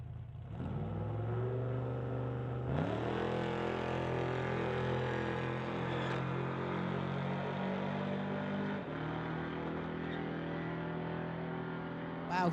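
Chevrolet Blazer and BMW launching side by side in a street-legal drag race at a strip, engines roaring loud and continuous, with a sharp rise in revs a few seconds in and a sustained mechanical drone after it.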